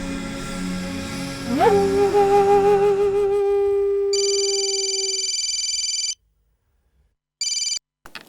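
An outgoing telephone call rings: a rising tone sweeps up and fades, then a loud, close ringback tone sounds in two bursts separated by a silent gap, with no voices.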